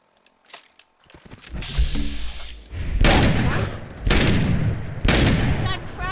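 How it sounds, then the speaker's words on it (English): Heavy gunfire from many guns at once in Fallout 4, loud bursts of rapid shots and booms in three dense waves building over the clip, with game effects filling the gaps. "A lot of gun, a lot of guns all at once."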